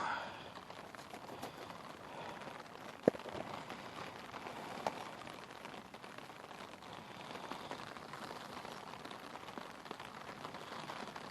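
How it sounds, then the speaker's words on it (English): Light rain patters and bounces on open water beside a fishing spot, a soft, even hiss of drops with a couple of sharper taps, quiet and close with no talking. "I don't know if you can hear the rain"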